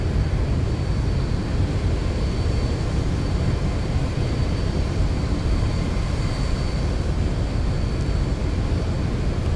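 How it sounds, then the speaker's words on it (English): Airliner cabin in X-Plane 11 during an automatic ILS approach and landing, with a loud, steady engine roar and broadband rumble that stays unbroken throughout. "So now we can see how the airplane handles an ILS landing."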